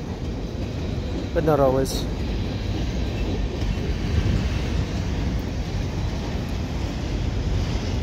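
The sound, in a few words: CN freight train passing Dorval West signals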